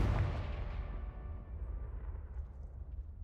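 A Confringo fire-blast spell explodes in Hogwarts Legacy, a loud booming burst up close followed by a long rumbling decay, with no voices.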